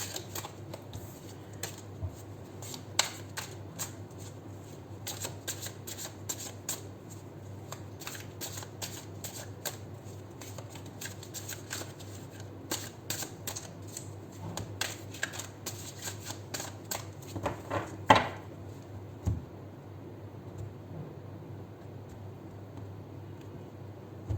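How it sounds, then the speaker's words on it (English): A deck of tarot cards shuffled over and over, with soft riffling and crisp slapping bursts in irregular clusters for more than twenty seconds, close and fairly quiet with no talking. "We'll do 7 shuffles, followed by, after cutting the deck, we'll pull out cards for you."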